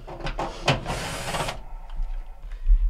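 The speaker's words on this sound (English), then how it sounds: "There are three quarter inch screws that hold the panel on at the bottom. I want to go ahead and remove them." A powered driver whirs for about a second, backing quarter-inch screws out of the bottom panel of a Whirlpool dryer, followed by quieter handling noises and no talking.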